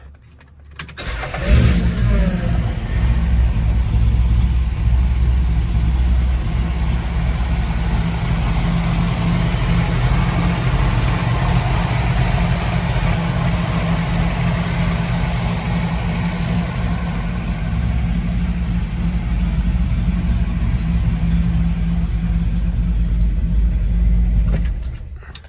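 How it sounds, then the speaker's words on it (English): A 1964 Chevy Impala fitted with a Corvette engine cranks and catches, then settles into a steady, loud, rumbling idle that holds evenly for over twenty seconds before cutting off. "We'll fire it up real quick, let you hear this girl run."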